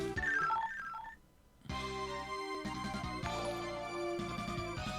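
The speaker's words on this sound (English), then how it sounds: "Did I just get a notification?" A short electronic notification chime of rising tones plays, then after a brief near-silent gap a dense, steady electronic game-style melody continues at moderate volume, with no speech.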